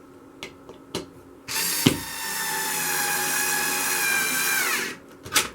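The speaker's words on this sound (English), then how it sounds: "And you screw it in place" A power driver drives a screw into a wooden batten in a stained glass mirror project. A few light knocks come first, then a steady whirring run of about three seconds. It ends in a couple of taps, close and alone.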